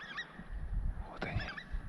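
A flock of geese honks outdoors during a spring hunt, several overlapping calls in two bursts near the start and again past the middle over a low rumble of wind.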